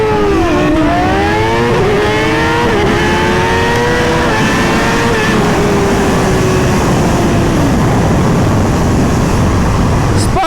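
A Suzuki GSX-R1000 and a Kawasaki ZX-10R launch side by side in a head-to-head drag race: loud, close engine roars climbing through rapid gear changes, then a sustained high-revving blast receding into heavy wind and road rush.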